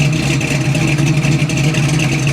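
A 540 Cruiser big block V8 in a 1968 Camaro runs loud and close, producing a dense, steady rumbling drone with a strong throbbing low tone, with no voices.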